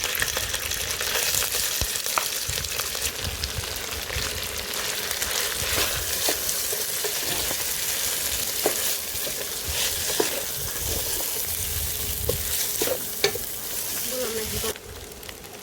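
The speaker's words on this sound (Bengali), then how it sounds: "ঘিয়ের উপর এই চালটাকে একটু ভালো করে ভেজে নেব।" Rice fries in ghee with bay leaves in a pan while making jorda, a sweet rice dish. It gives a steady close sizzle with scattered stirring scrapes and clicks, and the sizzle eases off near the end.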